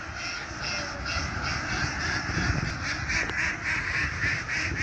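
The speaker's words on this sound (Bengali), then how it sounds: "এখানে একটা হাঁসের খামারও আছে অনেক হাঁস এখানে" Many ducks quack together at a duck farm beside the Turag River near Dhaka, in a busy, overlapping chorus at moderate distance, with repeated nasal calls over a steady background murmur.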